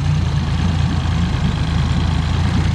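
A boat engine running at idle, a loud, close, steady low rumble with an even throbbing pulse and no voices over it.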